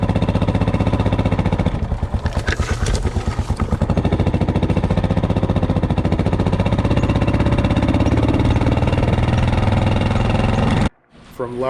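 A motorcycle engine runs loud and close with a steady, throbbing idle, revving briefly in the first few seconds, then holding its rough rumble before cutting out near the end.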